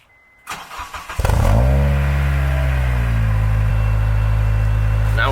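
A 2003 Acura RSX with an HKS exhaust and silencer cranks over briefly, catches, and settles into a steady, loud, close idle that runs on alone.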